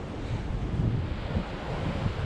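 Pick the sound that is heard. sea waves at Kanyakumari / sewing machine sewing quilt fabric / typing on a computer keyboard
sea waves at Kanyakumari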